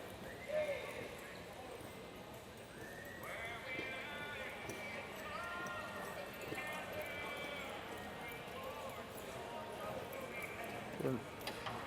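Cutting horse working a cow in an arena, soft hoof thuds and scuffling in the dirt under a nearby commentator's voice that talks throughout.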